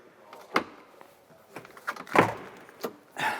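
Rear door of an INEOS Grenadier opening, a handful of short mechanical clunks and latch clicks spread over a few seconds, moderately close with a faint background hum.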